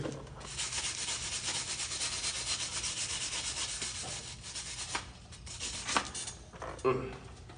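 Rapid, gritty scrubbing of a hand wire brush against a stick weld on metal, steady for several seconds, then a few sharper separate strokes near the end.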